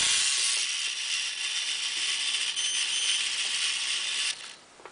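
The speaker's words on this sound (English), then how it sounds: "next motor up to test is the 12-speed Tamiya motor gearbox" A Tamiya 12-speed motor gearbox on an RC tractor drive runs under load, giving a steady high-pitched whirring gear whine with faint rattling ticks, then winding down and stopping near the end.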